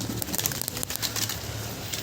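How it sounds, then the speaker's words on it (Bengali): Domestic pigeons being released, a soft flurry of wingbeats mixed with low cooing from the flock, close by and without speech. "এই দেখুন পায়রাগুলো ছাড়া হচ্ছে"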